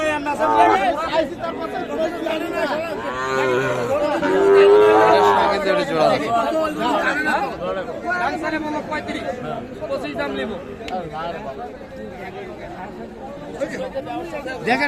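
Cattle, bull calves and young bulls for farming, low at the Aftabganj livestock market in Dinajpur. Occasional moos rise through steady crowd chatter and nearby voices.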